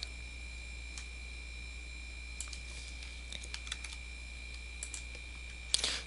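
Soft, sparse clicks of a computer keyboard as JavaScript code is cut and pasted, with a few quick keystroke bursts over a steady electronic hum and a faint tonal whine.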